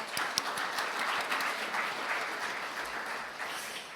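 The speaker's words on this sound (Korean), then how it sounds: "다시 한번 큰 박수 부탁드리겠습니다." Steady, dense applause from an audience at an agricultural award ceremony, a continuous wash of clapping that fills the whole stretch at moderate loudness with no speech on top.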